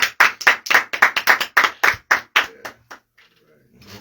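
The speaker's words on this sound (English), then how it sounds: "Everybody can applaud." Clapping at a radio podcast taping, about a dozen sharp, separate claps in a quick uneven rhythm from a small group, close and loud, stopping abruptly and leaving near silence.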